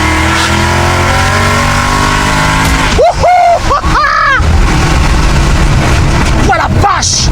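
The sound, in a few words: Ford Mustang engine revving with exhaust valves open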